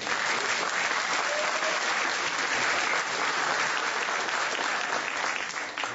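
An audience at a White House event honoring the Alabama football team applauds the mayor of Tuscaloosa, Walter Maddox, a steady, dense roomful of clapping that holds evenly and tapers slightly at the end.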